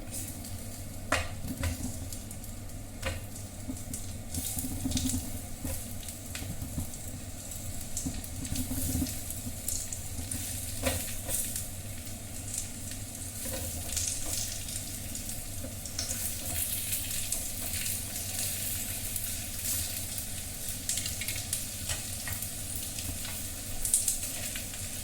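Idli tikkas roast in a pan over low heat, giving a soft, continuous sizzle with occasional light clicks and scrapes as they are turned, quiet and close with no talking.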